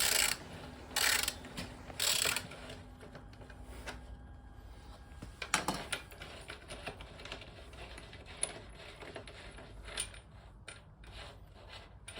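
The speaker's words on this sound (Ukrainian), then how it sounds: "Відкручуй гайку з лівого боку." Ratcheting clicks and metallic clanks of a wrench loosening the left-side rear axle nut on a Kawasaki Z900RS motorcycle, with short bursts of ratchet noise early on, then scattered taps and a sharp metal knock.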